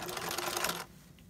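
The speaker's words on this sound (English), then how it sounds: "I have my sewing machine settings on zigzag and wide stitch so that" A sewing machine set to a wide zigzag stitch runs for under a second while stitching down a wig frontal, a rapid close whirring burst that stops abruptly.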